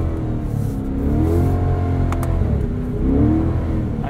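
A 2020 Chevrolet Corvette Stingray convertible's engine accelerating out of a snowy winter parking lot with the top down, a steady throaty drone that swells and rises in pitch twice, loud and close throughout.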